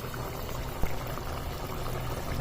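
Mango curry simmering in coconut milk bubbles at a low, steady boil, a soft continuous burble with one small knock partway through and no voices.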